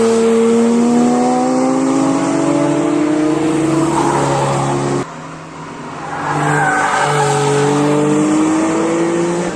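Cars roar around the Nürburgring track in Germany, sustained loud engine howls from one pass, a short lull, then another car approaching and passing close, revving hard.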